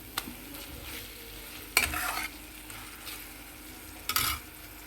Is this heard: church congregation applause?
no